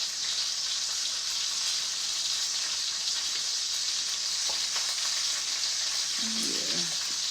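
Food frying and being stirred in a pan, a steady close sizzle running throughout with faint scraping near the end.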